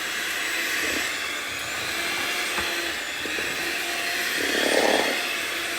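A steady, loud electric mixer whirs in a metal bowl, a constant buzzing hum with occasional scraping clinks as the beaters hit the sides.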